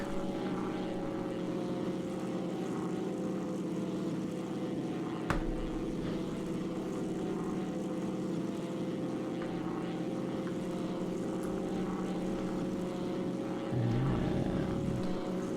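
A steady propeller aircraft engine drone in the X-Plane 11 flight simulator, with power being pulled back; the dense, continuous hum stays level throughout with a brief low thump near the end, no talking over it.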